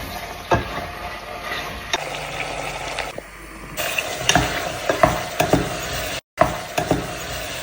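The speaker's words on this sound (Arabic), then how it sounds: "خليني نقلب شويه" A spoon scrapes and clatters around a pot of Tunisian cauliflower stew with onions frying, giving intermittent knocks and scraping strokes over a steady low sizzle, close by with no talking.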